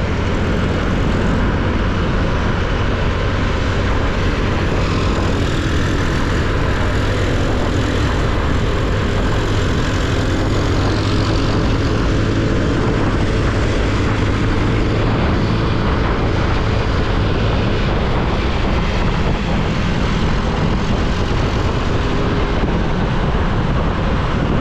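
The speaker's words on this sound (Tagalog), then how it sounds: "Dito parang may bababang aeroplano no?" Airplane flying low and descending overhead near a road in Carmona, Cavite, a loud continuous roar of engines and wind that fills the whole stretch without a break, with no talking.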